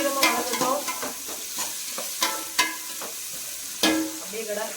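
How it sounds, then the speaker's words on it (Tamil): Onions being sautéed golden in a pan, heard up close as a soft sizzle broken by repeated sharp scrapes and taps of a spoon stirring, about a dozen irregular strikes over a few seconds. "வெங்காயம் நல்லா பொன்னிறமா வதக்கிட்டு"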